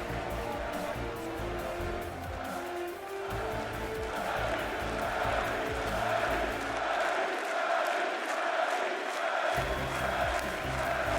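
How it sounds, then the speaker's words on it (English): A large crowd in an esports hall roars in a standing ovation, chanting a player's name in a loud, rhythmic, sustained swell, with a commentator's voice faint underneath. "There was a standing ovation in the hall. Everyone chanting his name."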